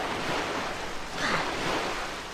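Steady ocean surf from The Legend of Zelda: Wind Waker, a continuous wash of waves with a soft swell rising near the end, heard alone.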